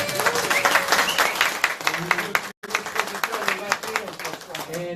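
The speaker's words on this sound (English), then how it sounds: "Let's give him a round of applause" An audience at a network launch event in Burbank, California applauds with lively, close clapping and a few cheers, briefly cut by a split-second gap midway before the clapping resumes just as strong.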